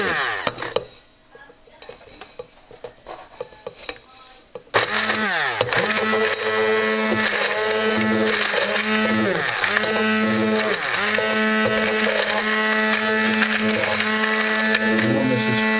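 A kitchen blender runs loudly after a quieter stretch of handling noises, its motor whirring with pulsing, cycling tones as it grinds ingredients for Scotch eggs.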